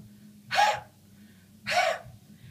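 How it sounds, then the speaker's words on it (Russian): Two sharp open-mouthed intakes of breath, done as a vocal breathing exercise, come about a second apart against a faint low hum. "обратим внимание на дыхание. Открываем рот, делаем так."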